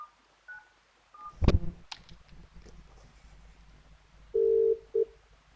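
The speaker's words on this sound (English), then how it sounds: "we'll just give it a test by dialing voicemail on this soft phone here" A handful of DTMF keypad tones from a softphone dialing voicemail on an Asterisk phone system: short spaced beeps, then two longer tones near the end, alone over a quiet line.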